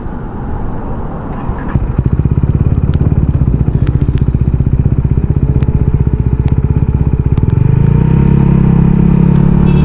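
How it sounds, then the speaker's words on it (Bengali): A motorcycle engine fires up after a brief rustle and settles into a loud, close, rapid idle thump that steadies, then rises in a rev near the end. "এই যে বাইক চালু হয়েছে।"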